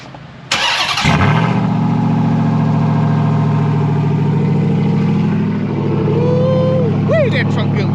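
A Ram TRX pickup truck engine cranks and catches, then settles into a loud, steady idle close by, with a brief rev near the end.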